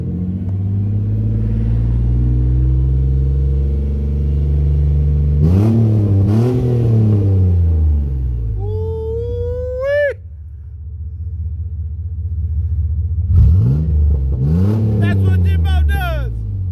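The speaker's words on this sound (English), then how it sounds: "Rev it up a little bit." A GMC Jimmy engine revs repeatedly up and down, loud and close, in a rumbling burst of throttle blips with a squeal and shouting voices mixed in.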